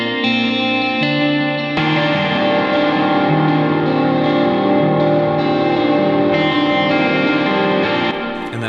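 Electric guitars play sustained chords through an overdrive pedal with reverb and compression, clean parts moving into crunchy distorted tones, loud, dense and continuous throughout.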